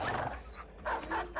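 A dog in the Battle Brothers video game dying, heard as a few short yelps and whimpers in separate bursts over low game background sound.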